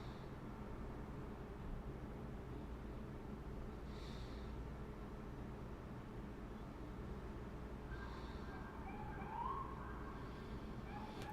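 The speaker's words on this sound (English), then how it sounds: "Now a police car is leaving." A faint, distant police car siren as the car leaves the scene during an outdoor live stream, wailing briefly in short rises over a steady rumble of background noise.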